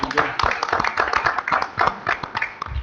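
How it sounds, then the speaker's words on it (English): A small group at a township council meeting claps for staff, a dense patter of hand claps running steadily throughout with a voice speaking over it. "I think you deserve a round of applause"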